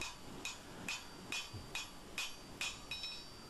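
A blacksmith hammers round bar on the edge of an anvil to flatten a blade near the heel, eight evenly spaced ringing metallic blows about half a second apart, close and clear.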